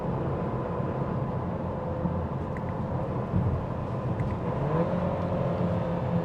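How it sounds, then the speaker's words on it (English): A 2025 Audi A3 downshifts hard while driving, its engine a steady broad rumble with a slight rise and surge near the end, heard from inside the cabin with road noise and no talking. "Downshifts are aggressive."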